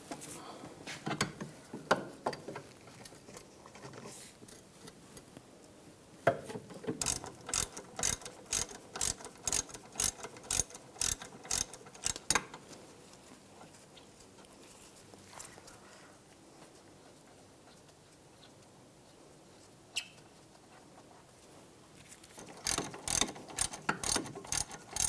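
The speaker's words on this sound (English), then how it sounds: "Using a 16mm socket, loosen up these bolts." A ratchet with a 16mm socket loosens rear brake caliper bolts on a 2001-2006 BMW 325Xi, sounding as bursts of rapid, sharp clicking in several separate runs, close and clear, with quiet pauses between.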